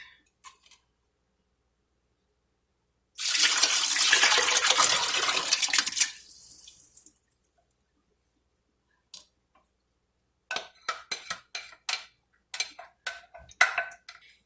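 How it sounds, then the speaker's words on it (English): Broth poured into a pot of albondigas Mexican meatball soup: a loud, splashing pour lasting about three seconds that tapers off, then silence, followed later by scattered clinks and taps of kitchen utensils against the pot. "Now I'm gonna go ahead and throw in my broth."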